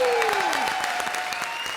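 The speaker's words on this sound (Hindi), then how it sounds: "जॉन के लिए एक बार जोरदार तालियां।" Studio audience applause for a film actor guest on a Hindi TV comedy show, steady clapping throughout under a host's voice.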